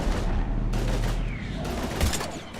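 Gunfire in a Mass Effect video game battle against Husks, heavy automatic bursts and booming impacts that pound loudly at first, then thin into scattered sharp shots with a brief lull.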